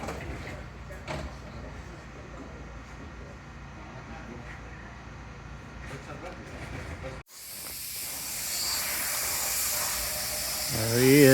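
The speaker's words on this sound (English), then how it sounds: "using an air tool to blow off all the old excess" An air tool blasts old adhesive off a 2004 Mustang's windshield frame, starting as a soft steady hiss under a voice, then jumping to a loud, harsh rush of blowing air in the last few seconds.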